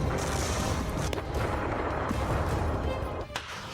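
War footage of the Ukraine conflict is filled with dense, continuous booms and rumbling artillery fire, loud and close, with scattered sharper blasts cutting through the heavy roar.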